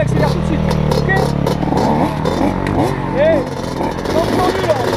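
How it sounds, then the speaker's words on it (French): A motorcycle accelerates with its engine pitch sweeping upward, loud and close, while people talk over it throughout. "la moto, elle accélère tout de suite"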